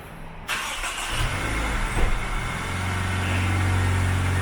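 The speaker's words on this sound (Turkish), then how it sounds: "Şimdi bir çalıştıralım bakalım. Evet araba uyandı." A 2013 Range Rover Evoque engine cranks and catches after a brief quiet start, then settles into a steady low idle, heard close with no talking.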